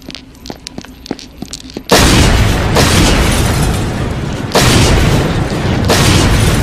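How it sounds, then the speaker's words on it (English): Grenades explode in a Justice League cartoon featuring Superman and the Joker. A few faint ticks come first, then one sudden loud blast and a rolling series of heavy, overlapping booms that swell again several times. "They're grenades!"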